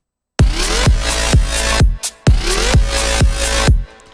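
A synthesizer plays repeated bright, swelling notes with a lush chorused shimmer and reverb tails, in two short phrases separated by a brief pause.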